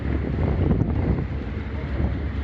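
Steady wind buffets the microphone with a low rumbling rush at Sarayburnu on the Istanbul shore, with faint open-water ambience underneath and no voices.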